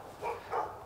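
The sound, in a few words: dogs barking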